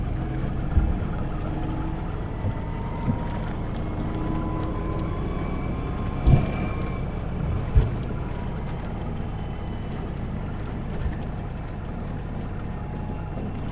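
A Citroën 2CV driven by a child putters along at a steady low drone, with a few brief knocks and bumps; the engine note stays moderate and even, with no talk.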